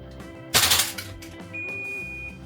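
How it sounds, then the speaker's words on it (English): A Tokyo Marui Type 89 gas blowback airsoft rifle fires a 3-round burst, a sharp loud rapid triple crack of the bolt cycling, followed by a steady faint hiss of gas. "let's test that 3-round burst"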